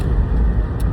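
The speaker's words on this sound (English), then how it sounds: "you can probably hear all the cars outside" Steady low rumble of road traffic outside, cars passing continuously without a break, fairly loud and close, with no talking over it.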